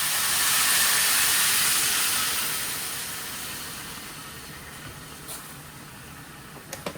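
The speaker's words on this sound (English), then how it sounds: "I'm just gonna pour in water that I have heated up already." Pre-heated water poured into a hot pan while cooking shaken beef sets off a loud steaming hiss that swells at first, then slowly fades to a quieter sizzle with a few small clicks near the end.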